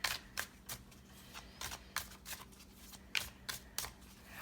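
Alice-themed tarot cards being shuffled in a series of crisp riffling bursts about every half second, close and fairly quiet over a low steady hum, with no talking.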